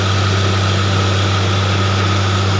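The engine of a borewell drilling rig runs loud and close with a constant heavy drone and strong low hum, unbroken throughout and without any voices.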